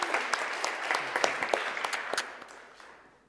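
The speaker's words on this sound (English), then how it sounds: "A big round of applause for Like a Local." Audience applauding at a startup pitch competition final, a steady wash of many hands clapping that holds for a few seconds before gradually thinning and fading out.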